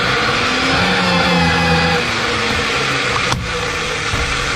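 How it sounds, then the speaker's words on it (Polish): A VIRAX bench pipe threading machine runs with a steady mechanical hum while chamfering the inside of a black steel pipe, the tone shifting slightly and a brief sharp click near the end, no voices. "zakładamy fazator, który jest również w maszynie, odpalamy maszynę, fazujemy rurę wewnątrz"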